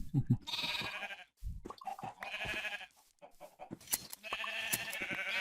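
Sheep in Minecraft bleating repeatedly in short, nasal bursts with brief gaps, several calls overlapping at close range and fairly loud, no talk over them.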